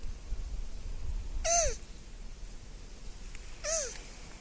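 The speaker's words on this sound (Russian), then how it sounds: "На этом видео они – спаривающиеся черепашки." Mating tortoises giving two brief, high, wavering squeaking calls, a couple of seconds apart, fairly close over faint background noise.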